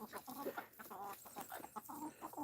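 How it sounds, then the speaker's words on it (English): Hens and roosters cluck in a busy, quiet chatter as they are fed in the early morning, with many short overlapping calls and no talking. "So there I'm feeding these chickens."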